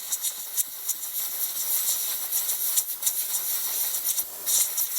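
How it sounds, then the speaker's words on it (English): Compressed air from a hose blows out a ball joint on a Bronco's upper control arm, a sharp hiss in short repeated bursts and sustained spurts, close and fairly loud, with no talk. "if you have a compressed air hose, and blow it out"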